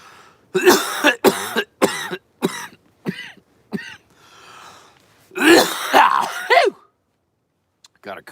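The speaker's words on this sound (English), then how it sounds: "Got a cough to get off." A man coughs repeatedly in a string of harsh, throaty bursts, several close together, then a longer rough fit of coughing and throat clearing after a short pause, loud and close.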